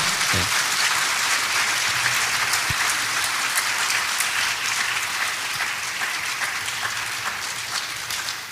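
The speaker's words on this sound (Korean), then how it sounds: "격려하는 의미로 박수로 한번 맞아주시기" Sustained applause from a church congregation during an afternoon worship service, steady dense clapping filling the room for the whole stretch as an elder comes forward to the pulpit.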